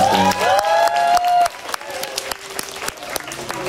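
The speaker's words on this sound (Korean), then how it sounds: "담당자님께 큰 박수 부탁드릴게요." A concert audience applauds at a show in Korea, clapping and cheering loudly, with a bright sustained tone over the first second and a half, then thinner clapping that continues to the end.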